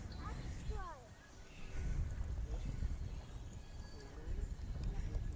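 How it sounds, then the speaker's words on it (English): Strong gusty wind buffets the open beach, a loud, rumbling roar that swells and eases continuously, with faint voices briefly in the background. "It's super windy though"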